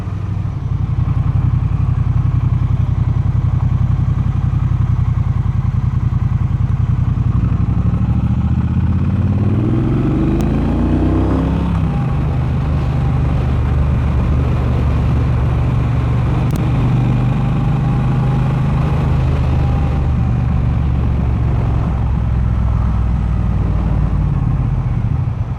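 A Triumph Bobber motorcycle on its stock exhaust accelerates through the gears and then cruises at speed, a loud, close engine rumble with rising revs, a gear change and steady wind-tinged drone.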